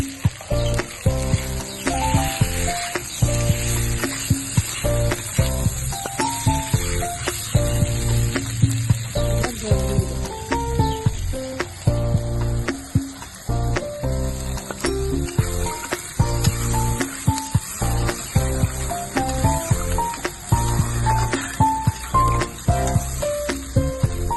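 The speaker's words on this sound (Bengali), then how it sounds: "আদা বাটাটা দিয়ে দিচ্ছি দিয়ে জল দিয়ে দিচ্ছি" Ginger paste and water hitting a hot pan, a continuous loud sizzle and hiss running throughout with steady, dense crackle, no voices.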